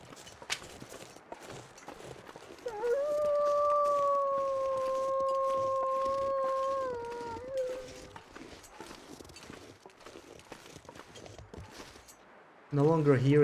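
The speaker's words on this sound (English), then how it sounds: "It's a wolf." A wolf in a survival game lets out one long, sustained howl with a wavering pitch that lasts several seconds and then fades, with faint footsteps and background noise around it and a louder burst near the end.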